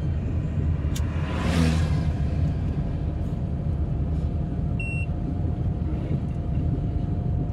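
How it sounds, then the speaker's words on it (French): A car with a failing SSR system rolls along gently with little braking, a steady low rumble of engine and road noise heard from inside, with a brief whooshing pass at about one and a half seconds and a small electronic beep. "Je vais rouler tout doux, sans trop freiner."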